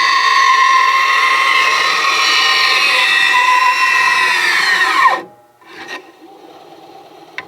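Bauer 9 inch tabletop bandsaw ripping a strip from a piece of wood, a loud steady rasping whine that holds for about five seconds, then winds down as the motor stops, followed by faint clicks.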